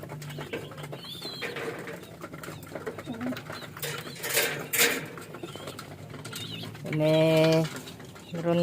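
Racing pigeons in a loft during a sprint race from Pulilan, Bulacan, giving soft low coos with a clear rolling coo near the end, alongside light wing flutters and shuffling; someone talks quietly under the birds.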